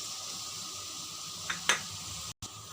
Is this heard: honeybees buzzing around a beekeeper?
no